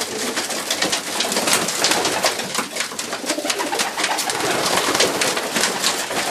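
Racing pigeons in a club loft coo steadily and overlap throughout, a dense, close chorus of soft throaty calls with wing rustles and no talk over it.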